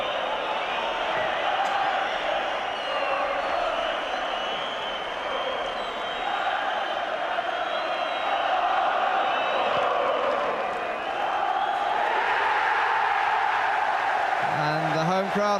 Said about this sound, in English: the home crowd at Bramall Lane celebrate a winning start